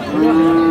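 A bull calf at a cattle market lets out a single short, loud moo, close by and steady, with no other sound around it.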